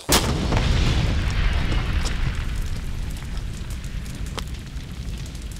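A military demolition charge packed with a petrol can beneath it detonates in a desert training demonstration, giving one sharp, loud blast at the start that rolls into a long, rumbling roar and slowly fading crackle.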